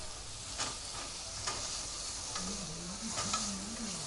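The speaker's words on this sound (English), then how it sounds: "I'm going to add some fresh garlic to this. And then I'm going to add my sliced shallots." Garlic and shallots frying and being stirred in a pan during a wine festival cooking demo, with a steady close sizzle and a few scraping stir strokes, no talking.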